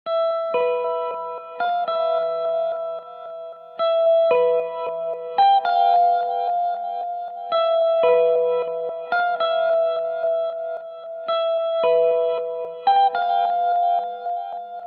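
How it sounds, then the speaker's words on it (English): An electric guitar plays a repeating riff adapted from a keyboard intro, drenched in phaser, reverb and reverse delay, so sustained chiming notes swell and shimmer in loud, even phrases for the full length with no talking. "I figured it out on guitar for myself, and I used phaser, reverb and reverse delay to play this"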